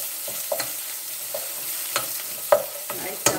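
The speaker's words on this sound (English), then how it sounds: "See, the garlic, it's important to fry very well." Garlic frying in a pan, a steady hiss of hot oil broken by scattered clicks and scrapes of stirring, close and moderately loud.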